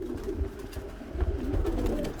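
Sport pigeons in an aviary loft coo in low, rolling, repeated phrases, several soft overlapping calls close by with faint rustling in the background.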